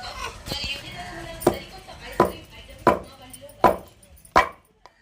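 Raw mangoes for avakaya pickle are chopped with a knife, giving a steady series of sharp, evenly spaced chops close by, with voices and a dog barking in the background.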